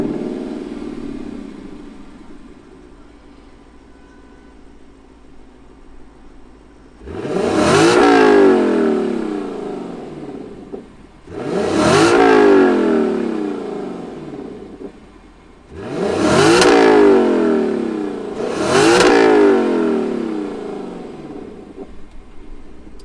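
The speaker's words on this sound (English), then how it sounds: "we're gonna hear what this 5-liter V8 sounds like" A 2021 Lexus LC500 convertible with a 5-liter V8 revs hard four times from a low idle. Each rev is a loud, rising roar that falls back to idle before the next one.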